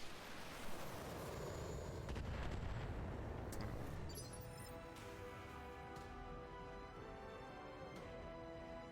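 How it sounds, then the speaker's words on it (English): Mech weapons in the BattleTech game fire on a light laser turret, a dense rumbling barrage of booms and blasts that runs loud and continuous, then thins into a ringing, echoing tail. "I should probably shoot that first. Fire!"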